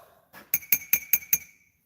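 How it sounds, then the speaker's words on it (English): A mug clinks five times in quick, evenly spaced succession, each a bright, ringing tap, close and alone after a soft lead-in touch. "and that's Ian's mug"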